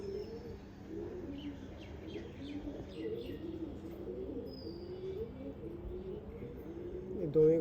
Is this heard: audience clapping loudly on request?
no